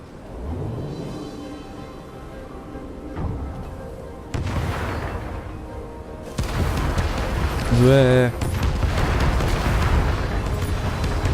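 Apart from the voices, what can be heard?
cannon fire in the video game Stories: The Path of Destinies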